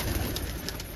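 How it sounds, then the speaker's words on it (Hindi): Pigeons coo softly in a brief moment at a rooftop loft, a low murmuring call under steady background noise with a faint high whine. "ये नए कबूतर उड़ रहे हैं"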